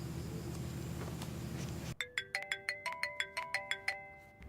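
A phone ringtone for an incoming call begins abruptly after a stretch of low background noise, playing a bright, evenly spaced run of chiming electronic notes that repeats loud and close.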